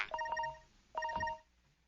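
A phone rings with an incoming call in two short bursts of bright electronic ringtone, separated by a brief pause, moderately loud and close, with no talk over it.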